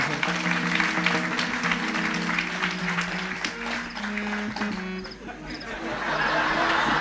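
A crowd at a Marathi devotional kirtan claps for two mace-bearers, a sustained wash of applause that dips briefly in the middle before swelling again, with faint murmurs and chuckles mixed in.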